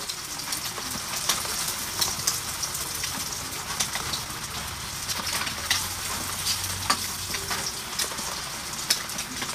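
Tortang talong, an eggplant omelette, frying in a pan with a steady soft sizzle and crackle, light spatter pops throughout, fairly faint and with no one speaking, while rain falls outside.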